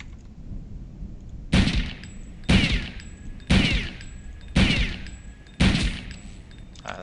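Weapon fire in the video game Return to Castle Wolfenstein: five sharp, loud shots spaced evenly about a second apart, each with a short ringing tail, over a low background hum.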